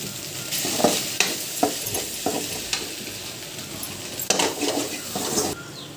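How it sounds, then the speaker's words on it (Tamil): Egg sautéing in a pan for Tamil-style chicken rice, with a steady sizzle and frequent spatula scrapes and clinks against the metal pan, close by and without talk. "முட்டை நல்லா வதங்கிட்டு"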